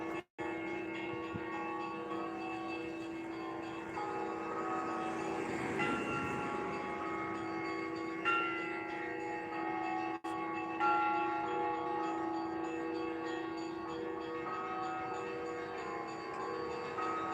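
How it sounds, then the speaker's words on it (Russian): Church bells ring from a bell tower with bells hung on two tiers, sustained tones that hold steady and overlap throughout, loud and fairly near, with no talk over them. "Там, кстати, на 2 этажах, на 2 ярусах колокола"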